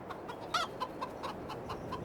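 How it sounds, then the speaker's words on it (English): Chickens in the Farming Simulator 22 video game, played on PS5, cluck in a steady, soft run of short repeated calls with one louder squawk, set against a constant low farmyard ambience. "Let's take a look at our chickens."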